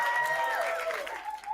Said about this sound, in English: A big round of applause for these kids.